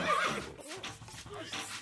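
A horse neighs briefly in the video game Stronghold Crusader HD, a quick whinny near and faint, with a voice speaking around it.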